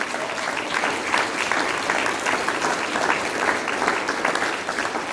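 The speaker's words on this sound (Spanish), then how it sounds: "den un aplauso al Señor" Congregation at a Sunday church service claps steadily and briskly, a dense, even applause filling the room for several seconds with slight swells in intensity and no voices standing out.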